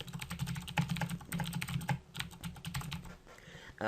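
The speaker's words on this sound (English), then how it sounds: "pardon my loud keyboard" Rapid, loud clacking of computer keyboard keys in quick irregular bursts, close up, with no voices.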